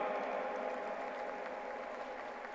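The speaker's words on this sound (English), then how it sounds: "A big round of applause to Vedangi for Executive President's Medal." Steady applause from a crowd at a university convocation ceremony in Pune, a dense continuous patter of clapping that holds evenly throughout at a modest, somewhat distant level.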